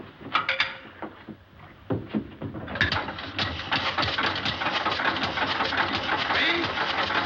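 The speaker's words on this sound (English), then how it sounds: "Keep that engine running." An old car engine cranks and sputters in irregular bursts, then catches and settles into a steady running rattle.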